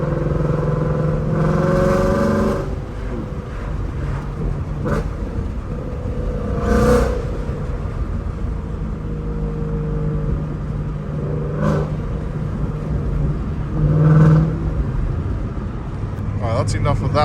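A 2016 Ford Mustang GT's engine idles with a deep rumble, broken by several sharp revs that swell and fall back, close and loud, with a person talking briefly over it.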